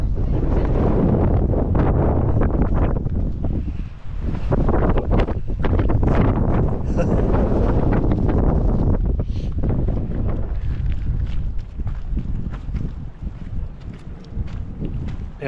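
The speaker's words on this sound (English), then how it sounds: "Yeah, that wind's pretty strong." Strong wind buffets the microphone beside the water at Navajo Lake State Park in New Mexico, a loud continuous roar with gusty surges that eases slightly toward the end.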